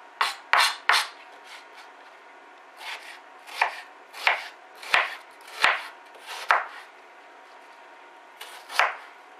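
A knife chops through an onion on a board for cock-a-leekie soup, about a dozen sharp, close blade strikes coming in quick clusters with short pauses between, alone and without talk.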